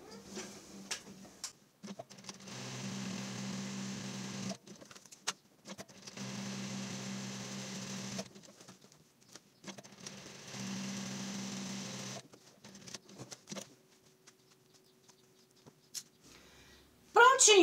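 A sewing machine stitches a raw cotton bag in three long, steady runs of whirring with short pauses between them. Someone talks over parts of it, and a clatter comes at the end.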